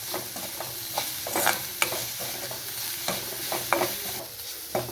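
Fish cutlet mixture of fish pieces being stirred together in a pan, steady close scraping and stirring strokes over a faint sizzle, with no talk.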